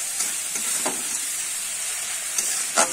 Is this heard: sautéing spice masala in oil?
yes